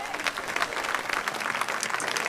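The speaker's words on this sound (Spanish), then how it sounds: "Dale un aplauso al Señor." A church congregation applauding during a Spanish-language Sunday service, a short burst of dense, even clapping from a crowd.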